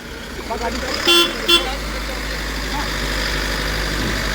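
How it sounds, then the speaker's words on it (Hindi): A road vehicle passes near the site of an ammonia gas leak at a milk plant near Nawalgarh, giving two short horn toots over a steady engine rumble while someone talks throughout. "वहाँ गाड़ी जा रही है"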